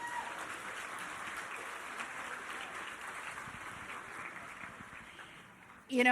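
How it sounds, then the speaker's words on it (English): A gala audience applauds scholar Jonathan, soft, distant, sustained clapping that fades gradually over several seconds before a sudden louder burst at the very end. "Another round of applause, please, for Jonathan."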